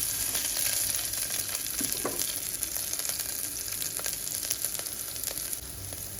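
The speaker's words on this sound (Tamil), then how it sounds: "இப்போ வந்து பூண்டு போட்டுக்கிறேன்" Garlic fries in hot oil with urad dal, chana dal and dried red chilies, a loud continuous close sizzle with light stirring clicks throughout and no voices.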